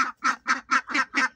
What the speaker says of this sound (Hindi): बतखें